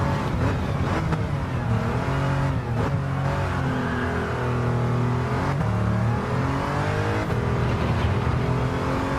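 Race car engine in Gran Turismo 7, a continuous loud close whine that revs up and down through gear changes and braking, with no talk over it.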